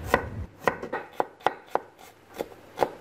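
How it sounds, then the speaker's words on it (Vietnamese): A knife slices shallots on a cutting board for braised pork trotters with lemongrass and chili, giving about nine crisp, close chops at an uneven pace with short pauses between them. "Hành tím cũng đem ra cắt lát hết nè."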